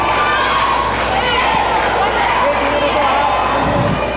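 Crowd of NU supporters cheering at a women's volleyball match between UST and NU in the Shakey's league, a steady roar of voices filling the hall throughout, with commentators talking over it.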